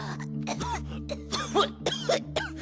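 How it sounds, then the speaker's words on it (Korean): Several short, sharp coughs in a row over a steady background tune, each burst brief and close. "기침도 나오고 목도 아파요"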